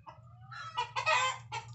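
Chickens cluck nearby in short, uneven bursts, several calls rising and breaking off against a low steady hum.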